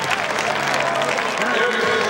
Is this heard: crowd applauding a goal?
yes